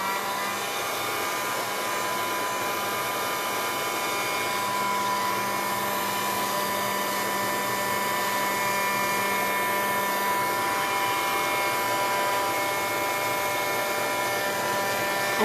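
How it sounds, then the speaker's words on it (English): Heat gun blowing hot air across an MDF canvas surface during mixed media crafting, a steady, loud, unbroken whir with a faint tonal hum, continuous throughout with no talk. "whenever you're using heat gun, just remember that the surface is of MDF"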